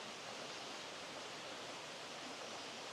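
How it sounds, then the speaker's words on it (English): A stream flows across a forest road in Monongahela National Forest, a steady broadband rush of water that is soft and continuous with no voices. "And the water's flowing decent enough"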